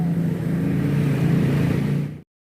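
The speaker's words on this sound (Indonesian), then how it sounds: "Saatnya saya uji coba alat mesin potong rumput ya, rakitan." A homemade lawn mower built from scrap parts runs its small engine at a steady, buzzing idle-to-high drone close by, loud and continuous for about two seconds before it cuts off abruptly into silence.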